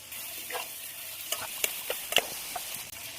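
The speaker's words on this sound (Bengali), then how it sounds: "টমেটো কুচি দিয়ে ভাজার জন্য নেড়ে দেবো।" Chopped tomato frying in a pan for chicken do pyaza and being stirred, giving a bright continuous sizzle broken by scattered clicks and scrapes of the spatula, close and without talk.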